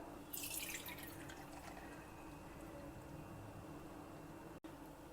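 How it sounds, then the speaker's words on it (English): Water from soaked yellow moong dal drains out, a faint trickling and dripping splash at the start settling into a quiet, steady watery hiss over low background noise. "Now we will drain out the water."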